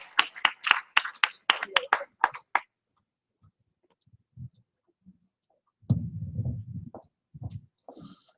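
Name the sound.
audience applause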